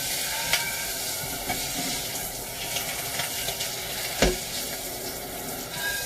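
A hot pan from searing a pork chop, its bottom coated in fond, is rinsed under water, giving a steady steamy hiss and sizzle with a few sharp knocks and splashes, close by and without talk.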